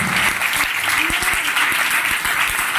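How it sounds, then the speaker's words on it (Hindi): A congregation applauds during a sermon, steady, dense clapping from a large crowd heard throughout with some voices underneath. "ताली बजाओगे"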